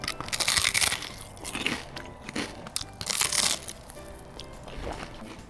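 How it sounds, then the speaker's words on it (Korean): Crunchy glutinous rice seaweed chips (gim-bugak) bitten and chewed up close, giving loud, dry crackling crunches in irregular bursts with brief pauses, and no talking. "먼저 찹쌀 김부각부터 먹여보겠습니다"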